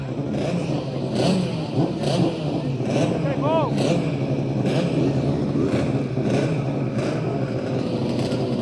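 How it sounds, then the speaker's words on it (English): The 1977 World Championship-winning sidecar racing motorcycle roars at steady high revs, with engine noise running continuously beneath an excited commentator's voice. "He's on George Odell's 1977 World Championship winning machine, and it's a real flyer."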